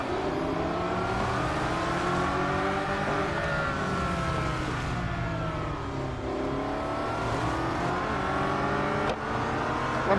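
Race car engines from the Real Racing 3 mobile racing game, a continuous loud engine drone that rises and falls through gear changes and revs, with another car roaring nearby, no talking.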